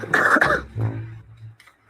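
A person coughs twice in quick succession, a harsh close burst followed by a rougher, lower throat-clearing cough that trails off.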